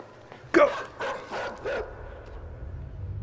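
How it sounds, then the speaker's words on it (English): A dog barks four times in quick, sharp bursts nearby, the first the loudest, then quiet rumbling remains. "That dog's pissed!"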